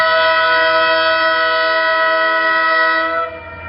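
A loud train horn blares with steady harmonic tones for about three seconds, then cuts off, leaving the low rumble of the train.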